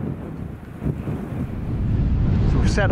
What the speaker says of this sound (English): It's got the wind, it's picked right up, it's mad.